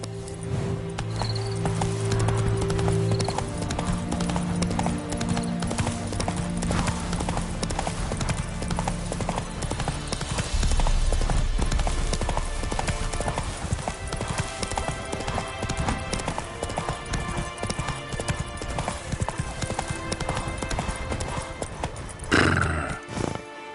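The horse Roach galloping in The Witcher 3, with steady rhythmic clip-clop of hooves throughout alongside game music and ambience, and a whinny near the end.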